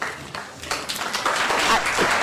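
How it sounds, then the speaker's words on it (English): Applause builds from scattered claps to a fuller, steady round in a city council meeting room, moderately close and without speech over it. "Definitely an applause."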